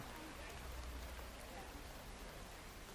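Soft, steady rain falls through the streets of a city called Bridgewater, a faint, even hiss with no distinct drops, serving as low background ambience for a fantasy tabletop roleplay scene.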